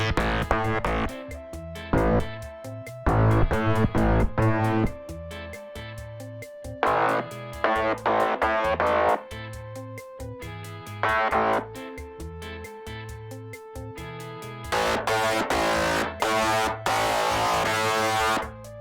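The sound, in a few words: bass processed with overdrive and distortion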